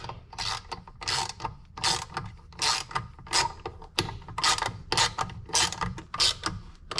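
A tool is tightened to spread a clutch and slacken a belt, giving close, rhythmic ratcheting clicks in quick repeated bursts with brief pauses, alone and fairly quiet.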